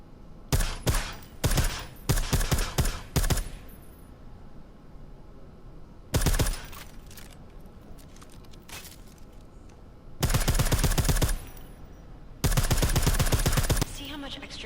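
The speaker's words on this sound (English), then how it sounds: "I like how silencers reduce sound, but the trade-off is less stopping power" Bursts of silenced gunfire in Deus Ex: Mankind Divided, with rapid suppressed shots in several clusters and longer sustained volleys later, loud and close against a low game ambience.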